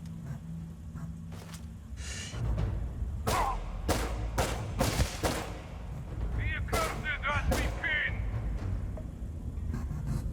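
Gunfire from the sci-fi video game Starfield: a series of loud, sharp shots and heavy blasts, spaced irregularly over a continuous low rumble. Brief game voices cut in between the shots.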